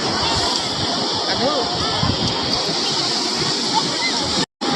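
Big ocean waves break and wash continuously at a seashore, a loud, steady roar of surf with sloshing water throughout and faint voices in the background.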